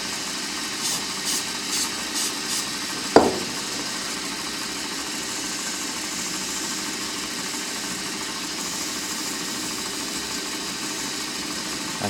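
Wood lathe spinning steadily while thin CA finish coats are applied to the turned piece, a continuous mid-pitched motor hum with a few faint ticks early on and one sharp knock near the start.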